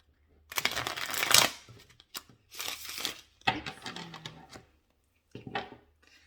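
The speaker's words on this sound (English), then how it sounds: "I shuffled a little bit before we started, but let's do one more." A deck of tarot cards is shuffled close up in several quick riffling, rustling bursts separated by short pauses in a quiet room.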